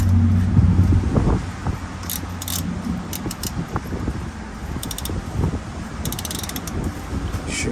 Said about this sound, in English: I'm gonna be using my universal wrench. Hopefully that is able to remove it.